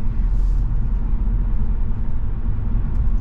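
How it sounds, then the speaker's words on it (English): Steady low rumble of road noise inside a moving 2024 Kia Forte GT-Line, with a light layer of wind hiss, continuous and fairly loud throughout. "Get a little wind noise, get a little road noise."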